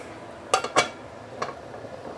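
An omelette is flipped in a non-stick pan, giving two sharp clinks of metal on metal close together near the start and a softer knock a moment later, with no talk.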